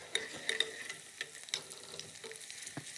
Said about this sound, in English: put some of the onions in there and then let that fry for a bit